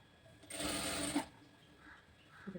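A sewing machine stitches a hook strip onto a blouse in one short burst of rapid needle chatter lasting under a second, then stops to a quiet room.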